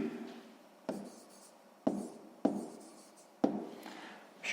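Pen strokes during a maths lesson, about five sharp scratchy taps of writing at an uneven rhythm, each fading quickly, close and quiet with no talk over them.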